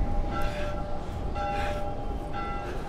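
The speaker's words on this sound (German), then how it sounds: "Und diese Glocken, je näher wir an diesen Glocken dran sind, desto näher sind wir natürlich auch an Ellie dran." Church-like bells ringing in The Last of Us, several soft repeated tolls at a steady pace over a dense low rumble and ambient game noise, fairly distant.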